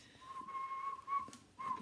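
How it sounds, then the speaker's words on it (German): A person whistles a song melody, a thin wavering tone in short phrases with brief gaps, fairly faint against a quiet room. "Vielleicht sollten wir das Lied pfeifen."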